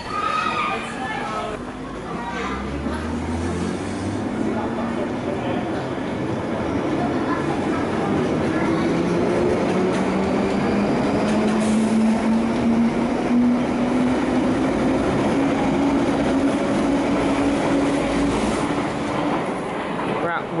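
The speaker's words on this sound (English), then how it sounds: "So here we are at Willesden Junction." A train rumbles through Willesden Junction station in London, a steady rolling roar with a rising whine as it moves along the track, while voices sound faintly in the background.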